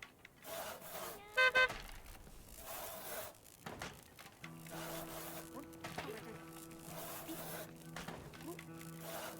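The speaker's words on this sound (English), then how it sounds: "Here comes the truck." A delivery truck arrives in the workshop-building video game Little Big Workshop, sounding a short bright horn toot early on, then a steady humming engine drone amid busy workshop clatter and sawing.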